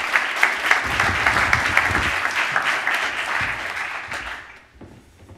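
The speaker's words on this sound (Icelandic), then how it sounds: "Við skulum bara klappa fyrir henni." An audience at a public presentation meeting on housing development in Reykjavík breaks into loud, sustained applause that fills the room, then fades away toward the end.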